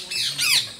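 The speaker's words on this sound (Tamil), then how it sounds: "செம்மையாக இருக்குங்க பாருங்க, கத்திட்டே இருக்கு கிளி வந்து." At a zoo, a parrot lets out a loud, harsh squawk at close range. It comes as two raspy, rising cries, the second one stronger. There is no talking.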